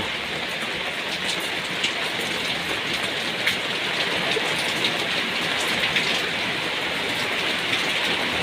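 Heavy rain drums steadily on a car, a dense, loud, unbroken hiss with scattered sharper drop hits and no voices over it.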